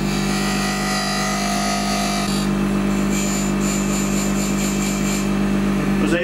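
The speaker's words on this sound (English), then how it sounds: "I'm going to use the EasyWood tool, 1/8 inch carbide" Wood lathe running with a steady motor hum and humming drone while an EasyWood 1/8 inch carbide tool cuts into a wooden barrel lid, loud and close throughout.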